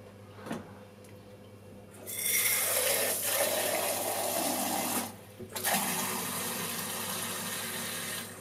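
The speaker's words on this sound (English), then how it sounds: "the reason I'm pouring it into a beaker is so I, I don't overflow the tank" Water poured from a beaker into a Lomo developing tank holding 16mm film makes a steady, close rushing splash lasting several seconds, with one brief pause partway through.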